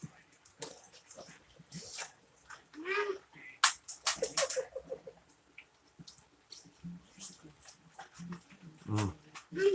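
A pet dog named J Dog whimpers and yips in short, uneven bursts indoors during an evening kitchen chat, the whines rising and falling close by with scattered sniffs and shuffles between them.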